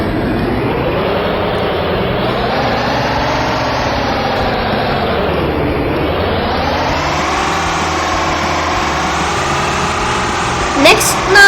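Motorbike engine in the mobile game Super Miami Girl City Dog Crime, a steady synthetic drone that sweeps up and down in pitch as the bike moves, running continuously until brief clicks near the end.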